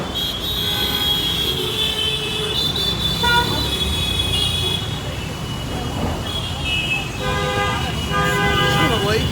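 Dense city street traffic in Mumbai, India, with repeated car horn toots and honks, some short and some held, over a steady roar of passing vehicles, with people talking nearby.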